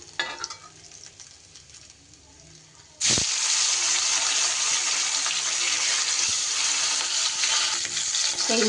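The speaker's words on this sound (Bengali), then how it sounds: "এগুলো এবার তুলে নিয়ে বাকি মাছগুলোও কিন্তু আমি ভেজে নেব।" Pieces of pomfret fish drop into hot oil: after a quiet few seconds a loud, dense sizzle bursts in and holds steady close by, with no talking.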